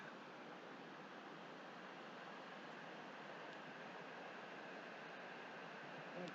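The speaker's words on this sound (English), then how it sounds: "Got a whole river here." A mountain river flows in a steady, faint, even rush of water with no breaks, heard from a distance and without any voices.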